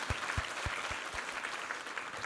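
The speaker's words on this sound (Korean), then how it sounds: "우리 하나님께 감사와 영광의 박수 올려드리겠습니다" A church congregation claps during a Korean Sunday Thanksgiving worship service, with several distinct, loud hand claps early on blending into a steadier patter of applause.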